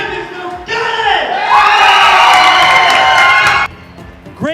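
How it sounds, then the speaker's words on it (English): At a state esports championship, a crowd erupts into loud cheering, shouts and whoops with some clapping, rising sharply after a quieter start, holding at full volume, then cutting off abruptly before a brief final shout. "There's that loud round of applause."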